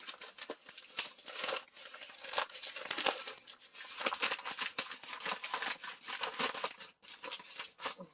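Continuous crinkling and tearing of an Amazon package being opened, plastic and paper rustling and ripping close by for several seconds, with no talking.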